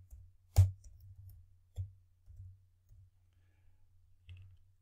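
A password is typed on a computer keyboard as a few sparse, faint clicks and taps with irregular gaps between them, close and quiet, against near silence.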